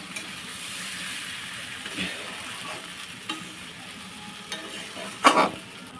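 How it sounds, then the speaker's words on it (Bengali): Rice, lentils and vegetables fry in a pan for bhuna khichuri, a steady crackling sizzle with soft scraping stirs and a sharper clatter near the end, with no voices. "আমি ভালোভাবে চাল ডাল আর সবজিটা দিয়ে ভালোভাবে ভেজে মিশিয়ে নিচ্ছি ভুনা খিচুড়ির জন্য"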